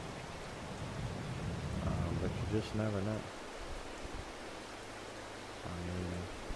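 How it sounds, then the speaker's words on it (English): Steady rain hiss in the Farming Simulator 22 game world runs throughout at low level, with a faint rumble and brief bursts of other sounds, while someone talks over part of it. "it might not end up raining all day today"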